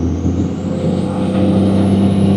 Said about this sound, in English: And I love the way a Cummins sounds.